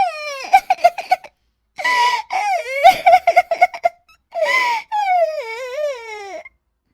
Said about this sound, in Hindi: इस जंगल में भला किसी के रोने की आवाज?